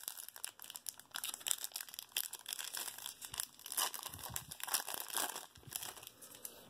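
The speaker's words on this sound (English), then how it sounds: "let's go ahead and get to ripping on these packs" Foil Press Pass trading card packs from a 2011 Elements hobby box being ripped open, a close, continuous run of crinkling and tearing wrapper sounds with no talking.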